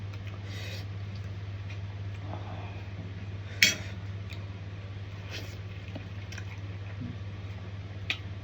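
Someone chews field frog in soft, close, wet squishing bites with a few small ticks and crunches over a steady low hum, and no talk.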